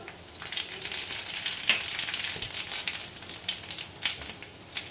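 Dried red chili and panch phoron spices fry in hot oil for a bitter-gourd dal, giving a steady, fairly loud crackling sizzle with sharp pops throughout.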